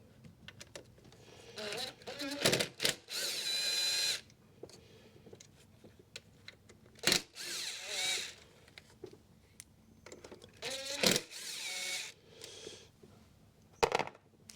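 A power screw gun with a Torx 30 bit drives screws on a 2010 Ford S-Max 2.0 TDCi diesel during a fuel filter change, giving several short whirring bursts separated by quiet pauses, close and fairly faint.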